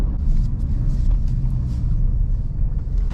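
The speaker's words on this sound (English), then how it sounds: "This truck does let you rev it out in neutral, which is cool." A 2023 Ford F-150 Raptor R with its 700 hp engine revved in neutral, a loud, deep rumbling exhaust that holds steady with slight swells, close and with no talking.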